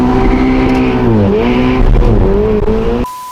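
A Ferrari 12Cilindri V12 engine revs loudly and close, its pitch rising and dipping through several throttle blips in a smooth, sustained howl before cutting off abruptly.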